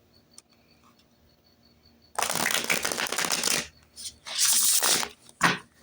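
Tarot cards are shuffled in a quiet room, first faint taps, then several loud riffling bursts close to the microphone with short pauses between.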